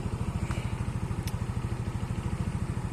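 A 125cc automatic scooter engine idles close by with a steady, rapid low throbbing pulse that holds even throughout, with no voices over it.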